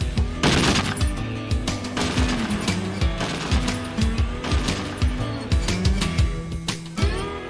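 Rapid gunfire at a target, dense volleys of loud cracking shots in overlapping bursts, close and continuous throughout with no talking.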